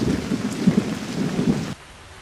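Steady rain with low rumbling thunder, a continuous wash of noise that cuts off abruptly near the end, leaving a quieter background.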